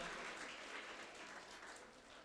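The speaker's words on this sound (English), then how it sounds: "Have a big round of applause once again, everyone." Faint, distant applause from the audience at a national conference in India, a soft continuous patter of clapping that stays level for a couple of seconds.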